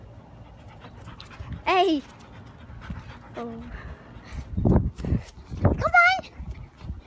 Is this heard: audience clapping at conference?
no